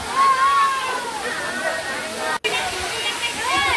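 A waterfall roars in a steady, loud rush along a temple pilgrimage walk, with a voice talking over the falling water and one brief dropout midway.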